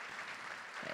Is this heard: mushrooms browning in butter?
no